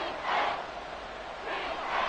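Stadium crowd noise swells in the video game Madden 24, a broad cheering roar rising twice in waves at moderate distance.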